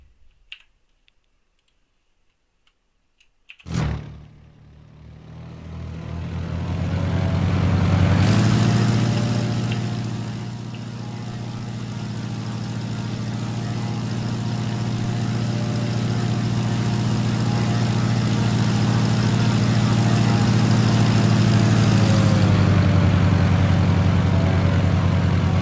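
A Ryan Navion propeller plane engine in the X-Plane 11 simulator: a sharp start-up crack, then a steady droning hum that builds and holds loud and continuous throughout.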